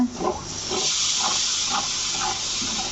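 Hot oil with flour sizzles steadily in a pan while duck bhuna is cooked Bengali style, a loud continuous hiss with soft rhythmic bubbling pulses throughout, no voices.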